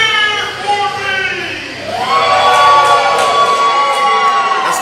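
A wrestling arena crowd at a BDW event boos and jeers loudly, a sustained dense roar that dips briefly then swells again, with whoops and shouts rising from the mass of voices.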